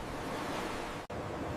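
Wind and waves at sea, a steady broadband rush of surf and gusting air, fairly faint and continuous, with a brief dropout near the end and no talking.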